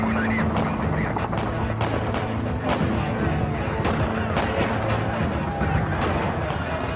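Gunfire erupts as federal agents approach a compound during an armed raid, with repeated sharp shots cracking through a dense, noisy background of shouting voices.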